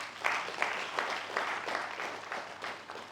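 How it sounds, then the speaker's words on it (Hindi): An audience at an education and living Q&A session claps in a brief burst of applause, a run of quick rhythmic hand claps heard from nearby, moderately loud, with no talk over it. "जोरदार ताली मारो।"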